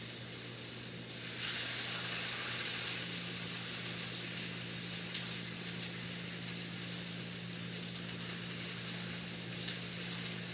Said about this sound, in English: we're going to put these 3 pieces of salmon in this cast iron skillet to get a nice crisp